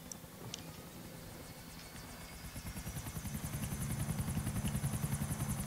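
A video game helicopter engine spins up, its rotor thumping faster and louder in a steady rhythm, with a faint high whine above and no talking.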